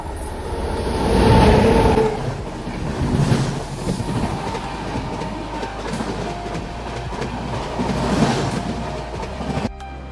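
The Netravati Express rumbles steadily along the Konkan Railway tracks through the Western Ghats, with rhythmic clatter and rolling wheel noise, loudest early on, then a steady drone.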